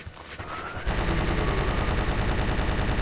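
A Gatling gun in the video game Resident Evil 2 opens up after a short quieter lead-in, then pours out a rapid, continuous stream of loud shots with a sharp mechanical rattle.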